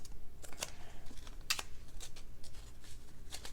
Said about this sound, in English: So I'll cut a big piece of tape and then cut it into smaller pieces